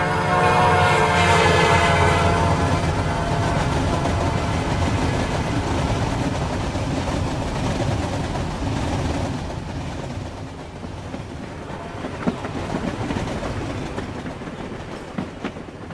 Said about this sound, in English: And you see the locomotive speeding?